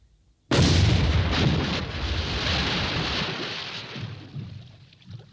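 An AVRE demolition gun of the British Army Royal Engineers fires a single loud, sudden blast that rolls into a long rumbling decay over several seconds, heard alone with no voices.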